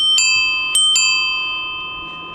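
A bicycle bell, fitted as safety equipment for signalling presence to drivers, rings three bright metallic strikes, one then a quick pair, each left to ring out in a long, clear decaying tone, close and loud with no talk.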